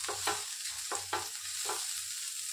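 Butter sizzling on a hot tawa while aloo paratha is cooked, a steady hiss with several soft scraping strokes spread across the moment.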